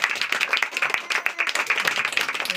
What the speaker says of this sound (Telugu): తర్వాత మెమోంటో చప్పట్లు కొట్టాలి